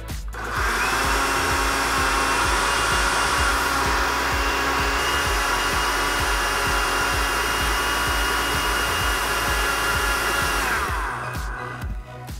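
A Quick Chop food chopper whirs steadily while blending mushroom soup, a loud continuous motor drone with a low rhythmic churning that runs for about eleven seconds before winding down, with no talking.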